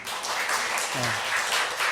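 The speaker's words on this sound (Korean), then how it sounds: "너무 반가워서 우리 박수 한번 하겠습니다" Congregation clapping during a church worship service, a steady broadband patter throughout the short stretch, with a brief voice rising partway through.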